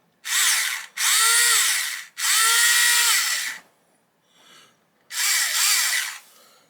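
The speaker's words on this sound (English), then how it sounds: "put my drill bit on that point" A power drill whirs in three long bursts into a plastic model kit, pitch sagging as it bites into the material, then a short pause and one more burst; loud and close, no talking.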